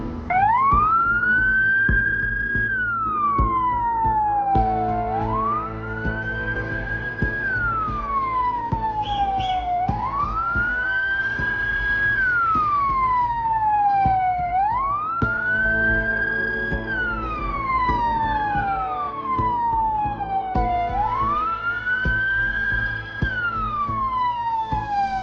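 An ambulance siren wails in a continuous rising and falling cycle, loud and steady throughout, with a second siren tone layered under it in places.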